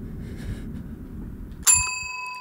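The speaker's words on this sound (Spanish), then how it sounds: "La campana ha sido tocada una cuarta vez." A bell struck once in the horror video game Suite 776, a sudden bright metallic ding with a long ringing tone that fades over a low background hum.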